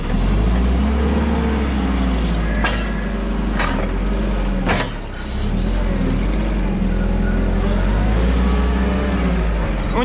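Forklift engine runs steadily while driving among apple bins in a commercial orchard, a loud continuous motor drone with a few sharp clanks and knocks over about ten seconds.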